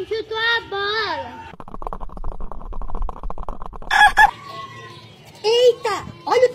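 A chicken clucks and crows in loud bursts, separated by a stretch of low rumbling noise, with calls returning near the end.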